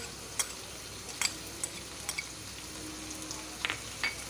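A soft, steady sizzle of chicken frying in a pan, with faint scattered pops and occasional light clinks of a utensil, no talking.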